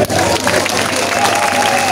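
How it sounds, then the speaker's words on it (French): Political party supporters at a rally applaud and cheer together, a loud, dense burst of clapping and crowd noise that carries on evenly for a couple of seconds. "Applaudissez-vous tout seul."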